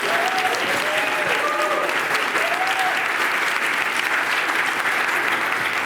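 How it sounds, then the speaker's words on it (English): A conference crowd breaks into a thunderous, sustained round of applause, dense and even from start to finish, with faint voices and cheers mixed in. "we're going to give them a thunderous round of applause when we get there."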